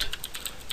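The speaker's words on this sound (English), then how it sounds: "you're going to type in" Quick, light keystrokes on a computer keyboard, a short close run of clicks.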